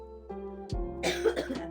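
A person with a heavy cough and an itchy, scratchy throat gives a short throat-clearing sound and then a couple of harsh coughs. They are close and fairly loud over a steady background hum.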